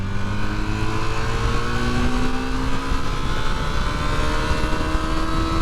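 A Honda CB250 Super Dream motorcycle engine drones loud and close, its pitch sliding steadily as it pulls and revs without pause.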